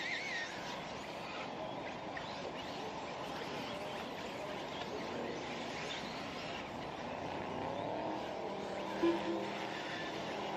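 RC race cars in a qualifier race at Mills Pond RC Raceway, their electric motors whining in a dense, steady wash of buzzing as they run the track, with a faint announcer voice underneath.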